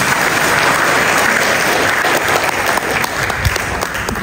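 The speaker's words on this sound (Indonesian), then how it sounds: "Maka kembali tepuk tangan untuk ketegapan kita." Sustained applause from a church audience at a Catholic pastoral gathering in Yogyakarta, dense and steady clapping filling the space for several seconds without a break.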